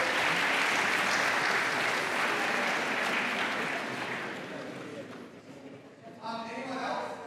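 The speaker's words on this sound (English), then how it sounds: "Round of applause." Steady clapping from a crowd fills the space, gradually thinning out and fading, with a few scattered claps near the end.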